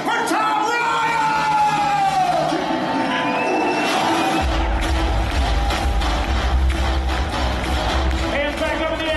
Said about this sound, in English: give them both a big round of applause, everybody.